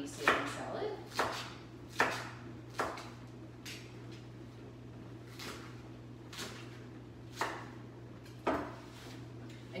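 A knife chops red leaf lettuce salad on a cutting board in a kitchen, with about a dozen sharp chops spaced roughly a second apart over a steady low hum.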